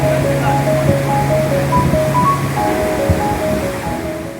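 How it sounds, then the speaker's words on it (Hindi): A raging flood river in Azad Kashmir during heavy rain and storm, its waves said to drag stones along, gives a loud, continuous turbulent rush. Faint tonal sounds float above it. "पानी की ये बिफरी लहरें अपने साथ पत्थरों को रगड़ते हुए घसीट कर ले जाती है।"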